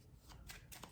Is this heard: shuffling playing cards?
yes